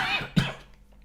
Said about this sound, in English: now you got me coughing